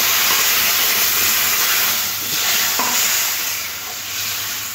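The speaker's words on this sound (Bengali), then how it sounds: "আলু ডাঁটা মশলার সাথে খুব ভালো করে কষা হয়ে গেছে, এবার জল দিয়ে দেবো।" Water poured into a pan of potatoes and drumsticks being fried with spices for a Bengali fish curry, raising a loud, steady steaming sizzle with stirring scrapes, close and continuous with no talk.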